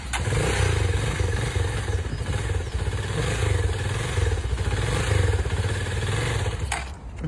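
A motorcycle being push-started runs with a loud, close engine rumble and mechanical clatter that continues throughout and eases slightly at the end.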